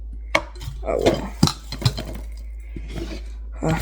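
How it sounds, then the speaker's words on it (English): Chopped cilantro scraped up with a knife and slid into a bowl during guacamole prep, a few close metallic scrapes and taps on the board with clinks against the bowl. "Scoop it up with your knife. Get the bowl and slide it into the bowl."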